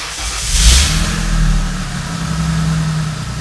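A 1997 Ford F150 XL truck engine cranks over, catches and revs up, then settles into a steady running note, loud and close with no talking.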